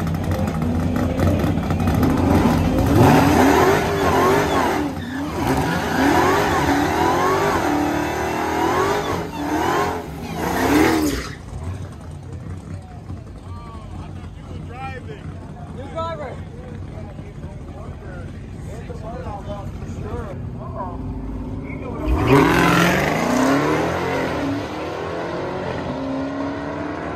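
Dodge Hellcat engine revving and accelerating at a drag strip ahead of a grudge race, loud and close with rising and falling throttle, mixed with people talking nearby.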